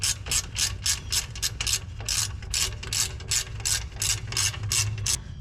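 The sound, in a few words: 18mm ratchet snugging up brake bolts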